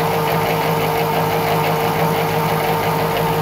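Electric bike motor running under applied power, a loud, steady whine with a constant hum and buzz that never lets up, recorded close to the bike.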